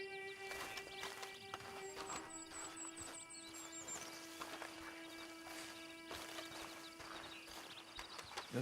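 Horse hooves clip-clop at a steady walking pace in Red Dead Redemption 2, close and moderately loud, with faint game ambience and a brief high tone running underneath.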